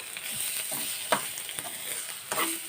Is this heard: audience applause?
no